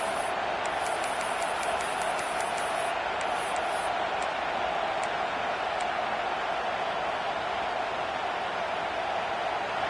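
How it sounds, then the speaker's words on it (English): A stadium crowd roars steadily at a football game as the defense faces a big third down, a constant wash of cheering and noise that stays loud without a break. "The black shirts looking to this crowd, and they are delivering energy on this big 3rd down"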